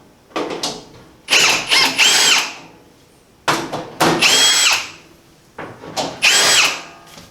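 A power drill backs out lag bolts from a pellet stove's shipping crate in three bursts of high whirring, each spinning up, pausing briefly and running again, with short quiet gaps between.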